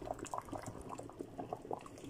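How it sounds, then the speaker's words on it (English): Bitter leaf soup bubbles in a pot, soft irregular pops and gurgles coming in a quick uneven rhythm, close and fairly quiet with no voices. "you can see the way the soup is bubbling."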